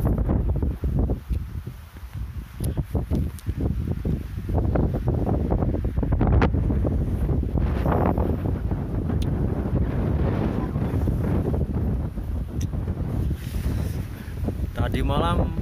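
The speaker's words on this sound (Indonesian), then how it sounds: "masih kencang anginnya." Strong wind roars steadily across a hilltop on Bukit Mongkrang after a night storm, buffeting the microphone with continuous loud rumbling gusts throughout, while people talk now and then underneath.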